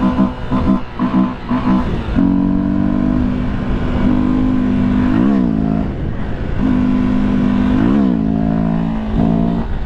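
Heavy car traffic on a Sunday street in Baixada, Brazil: loud, continuous engine drones and revving tones rise and bend as vehicles pass close by, with no pause in the flow.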